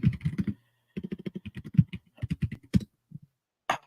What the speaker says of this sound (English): In mute for the typing.